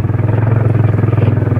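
A Hero Xpulse off-road motorcycle rumbles up close on a rough mountain trail, its engine throbbing in a steady, rapid pulsing beat with a loud low growl and no talk over it.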